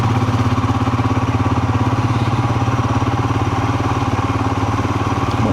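A Royal Enfield Himalayan 411 motorcycle engine idles steadily on a green lane, a loud, close, even thumping putter that holds without change throughout.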